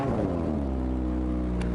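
Motorcycle engine idling steadily just after starting, a continuous close, loud rumble with even harmonic drone throughout, no talk over it.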